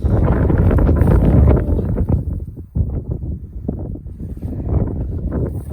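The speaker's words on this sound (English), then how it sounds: "Still windy, but not blowing me off my feet windy" Wind blows hard against the microphone on a desert ridge trail in a low, rumbling roar, strongest at first and then easing into softer gusts.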